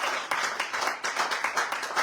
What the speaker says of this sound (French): Acclamons pour le directeur de LMC.